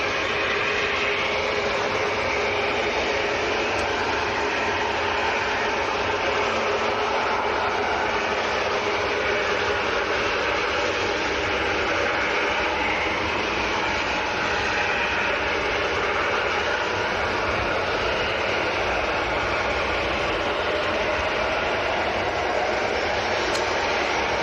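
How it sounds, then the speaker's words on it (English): Ryanair airliner on its takeoff roll at Manchester airport, a steady broad roar of engine noise held at an even level throughout, distant and continuous with no talk. "there's a Ryanair on the roll now"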